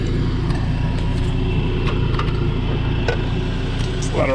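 A Farmall Super C tractor engine idles steadily in an even, continuous low rumble, loud and close, with no talk over it.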